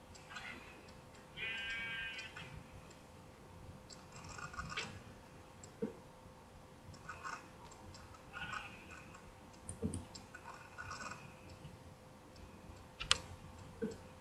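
A blocky sheep bleats in Minecraft on Xbox 360, short nasal calls rising over steady game ambience and scattered clicks and ticks, fairly faint and spread across the scene.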